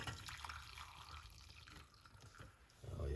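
A bedtime drink being poured off, heard as a soft, steady trickle and drip of liquid that stays quiet throughout and swells slightly near the end, with no talking.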